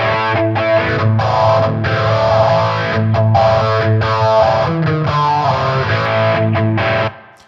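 Distorted electric guitar chords from a Gibson Les Paul through an amp modeler ring out steadily with heavy effects and a chorus-like shimmer, playing continuously before cutting off abruptly near the end.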